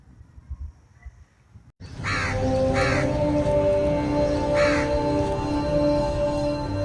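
Several loud caws from a crow at a village death-rite gathering, three distinct calls over a steady background drone after a brief quieter start.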